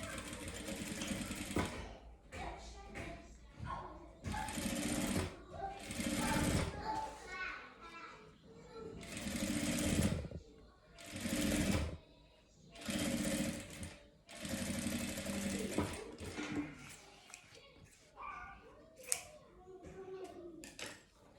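A sewing machine stitches bias binding onto a fabric vaccination card cover in repeated whirring runs of a few seconds each, close and loud, with someone talking and children heard in the pauses.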